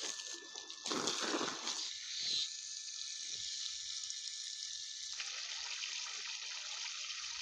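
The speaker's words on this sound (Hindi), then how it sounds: "अभी मैं यहाँ पर पानी डालने वाला हूँ दोस्तों" Water poured into a setup for pet zebra finches, a steady splashing, trickling stream with a louder burst near the start, continuing at an even level throughout without talk.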